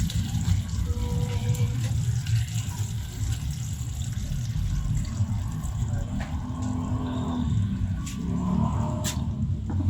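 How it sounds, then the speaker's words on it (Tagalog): Water poured into a cooking pot of sardines with misua, a steady low gurgling splash running continuously with small clinks, close up and without talk. "tsaka natin lalagyan ng tubig"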